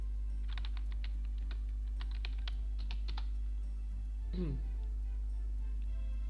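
Keyboard shortcuts typed on a computer keyboard while editing a file in the nano text editor: a quick run of crisp key clicks, then a short pause and a single voiced sound near the end over steady low hum.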